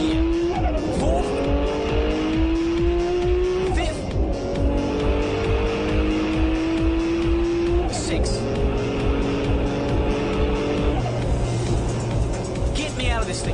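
A Signal GTR race car accelerating hard through third and fourth gear, engine note climbing in rising sweeps with a gear change roughly every four seconds, loud and close from inside the car, with a voice talking over it.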